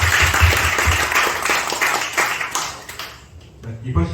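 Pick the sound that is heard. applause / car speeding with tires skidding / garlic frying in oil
applause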